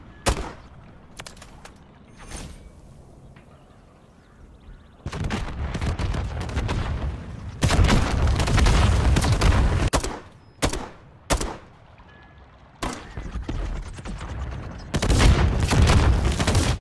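Spawn tube launches and explosions ring out in Modern Warfare III on the Sub Base map, a quiet stretch with scattered shots giving way to loud bursts of rapid gunfire and booming blasts, broken by short gaps and sharp single reports.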